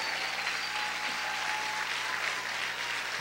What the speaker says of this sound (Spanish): A ver, aplaude fuerte a tu Rey.